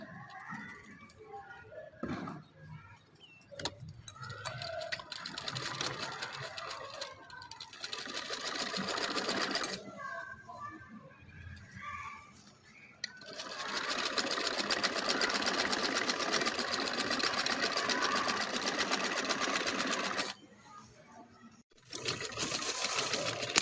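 A sewing machine stitches an off-white trouser in bursts, its fast mechanical whirr running for several seconds at a time, then pausing briefly before starting again, fairly close and steady with no talk over it.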